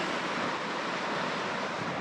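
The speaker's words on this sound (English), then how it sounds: "it's still a beautiful little beach" Steady broadband surf at a small bay, One Tree Beach on the New South Wales south coast, heard as a continuous soft wash of waves mixed with wind, no voices.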